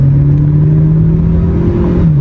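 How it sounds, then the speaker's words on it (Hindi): Tata Sierra 1.5 turbo petrol engine with automatic gearbox roars loudly and steadily from inside the moving car, a deep continuous drone that drops slightly in pitch near the end. "I am driving a automatic variant and यार ये रोर, ये आवाज"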